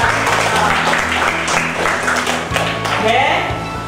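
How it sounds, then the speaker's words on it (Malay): A primary school class applauds in a lesson, scattered clapping mixed with children's chatter and a steady low hum, fairly close and loud, with voices audible throughout. "beri tepukan untuk kita"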